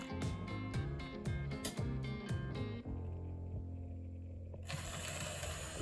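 A Rivarossi AHM model train locomotive slows to a halt and reverses, producing rapid rhythmic mechanical clicking that gives way to a steady low motor hum, with a brighter hiss entering near the end.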